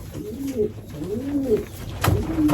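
A racing pigeon coos close up in two or three soft, rolling calls, with a short rustle near the end.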